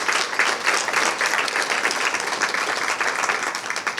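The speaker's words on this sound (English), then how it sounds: "give them a round of applause if we can" Steady audience applause at a school district press conference announcing a new CEO, dense clapping sustained at an even level throughout with no pauses.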